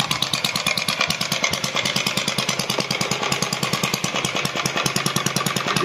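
A four-stroke engine runs with its muffler removed, loud and close, its rapid pulsing exhaust beats hammering steadily and evenly throughout without any speech.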